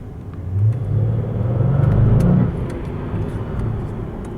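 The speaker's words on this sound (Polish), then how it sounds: "Wreszcie jest V8 benzynowa." An Audi S8 4.0 TFSI V8 petrol engine revs up with a deep rumble, swells to a peak and then settles back to a lower idle-like drone.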